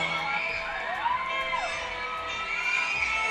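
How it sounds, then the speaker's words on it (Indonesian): A concert audience screams and cheers loudly during a young singer's performance, a dense, sustained wall of high shrieks with occasional louder whoops. "Ya ampun, ini yang teriak,"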